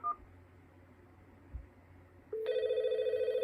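Telephone ringing through on a custom Dialogic TDM switch with Do Not Disturb enabled: after a short low hum and a faint click, a steady loud electronic ring tone starts and holds.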